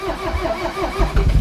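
A Toyota MR2 with a rod-knocking engine cranks with a rhythmic, chugging starter pulse, then catches and grows louder near the end, heard close up with no talking.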